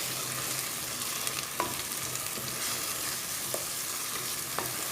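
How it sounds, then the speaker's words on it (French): Eggplant and minced meat mixture with tomatoes, garlic and spices frying in a pan, a steady close sizzle with occasional stirring clicks and scrapes, no talk. "Je vais pouvoir faire revenir encore tout ensemble"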